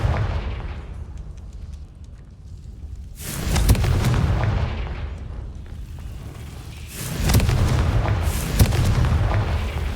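Confringo fire-blast spell exploding in Hogwarts Legacy, two loud booming blasts a few seconds apart, each swelling and rumbling before fading, with no talk.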